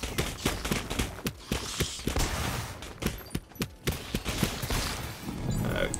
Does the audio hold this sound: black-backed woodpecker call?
no